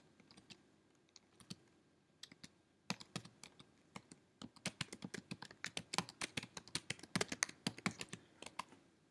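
Keys on a computer keyboard clatter in irregular quick runs, sparse at first and then denser, close and soft, with no voices.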